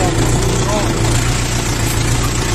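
A cold LOVOL 354 mini tractor engine idles nearby with a steady, loud, low rumbling drone that holds constant throughout.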